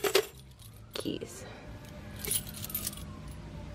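A box of old keys and locks jangles in metallic bursts, with a clatter at the start, another around one second and more after two seconds, over a low background rumble and soft speech.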